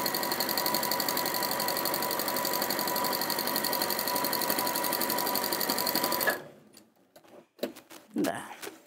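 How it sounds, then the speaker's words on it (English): A domestic sewing machine runs a long tacking stitch near a fabric edge, a steady fast mechanical whir with rapid needle ticking for about six seconds, then it stops and faint handling noises and a brief voice follow. "And I'm sewing close to the edge because this is just a tacking stitch."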